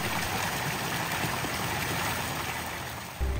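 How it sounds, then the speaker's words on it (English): Water from a fountain trickling into a pool, a steady close splashing and babbling flow that holds constant throughout with no voices. "I love listening to the sound of the water trickling into the pool"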